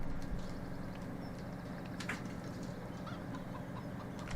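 Chickens cluck softly on a farm in Farming Simulator 17, scattered faint clucks and chirps over a steady low ambient hum.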